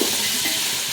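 Vegetables and peas are sautéed with spices, including Kashmiri red chilli, for a no-onion bhog khichdi, giving a brief close, steady hiss and sizzle from the pan with faint stirring.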